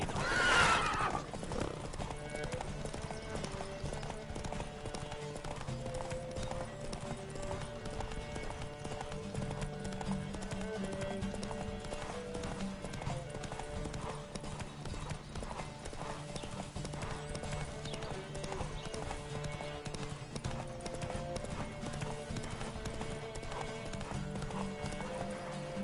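Horses gallop in a race in The Witcher 3, with a brief whinny at the start followed by a long, steady run of rhythmic hoofbeats that continues at even loudness throughout.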